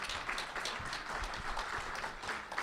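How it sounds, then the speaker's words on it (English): Audience applause at a biotech industry policy breakfast in a hall, steady and fairly faint, a dense wash of clapping across the whole stretch with no clear voices on top. "Also, big round of applause."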